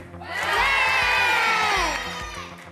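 A studio audience of children in a French TV game show erupts in loud, high-pitched cheering and shouting, swelling quickly, holding for over a second, then fading.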